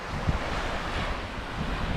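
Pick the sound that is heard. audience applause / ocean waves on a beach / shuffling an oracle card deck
ocean waves on a beach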